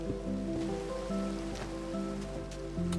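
Rain falls in the modded Minecraft game, a soft steady patter under a layer of sustained background music tones.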